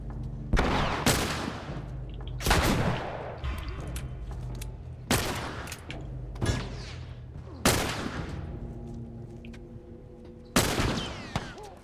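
Gunfire in The Last of Us rings out as about half a dozen sharp, loud shots spaced a second or two apart, each with a ringing decay over a low background hum.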